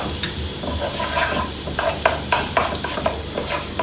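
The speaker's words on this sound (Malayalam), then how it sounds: "ഞാനപ്പോൾ അതിലേക്ക് ബട്ടർ ഇട്ട് കൊടുക്കുകയാണ്" Butter sizzles and crackles steadily in a hot pan over a low flame while making cauliflower mac and cheese, with sharp spattering pops near the mic and the occasional scrape of a stirring utensil.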